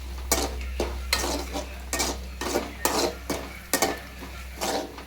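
Onions with chillies fry in a pan while a utensil scrapes and clinks against the metal in repeated stirring strokes, over a steady low hum.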